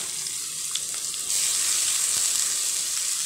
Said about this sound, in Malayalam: ഇതിലേക്ക് നമുക്കിനി അരിഞ്ഞു വെച്ചിരിക്കുന്ന സവോളയും കൂടെ ചേർക്കാം